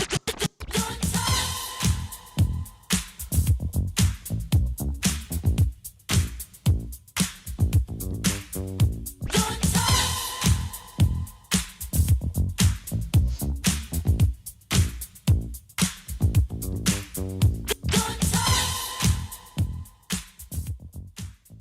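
A funky disco groove plays steadily, with a tight repeating beat, chopped rhythm guitar and bass looping in bars, loud and full with no voices.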